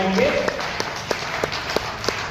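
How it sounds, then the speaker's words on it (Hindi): An audience at an insurance office gathering in Balotra claps, a brief burst followed by scattered, spaced individual claps, with a voice heard at the start. "एक बार जोरदार तालियां हम अपने अभिकर्ताओं के लिए बजाएंगे।"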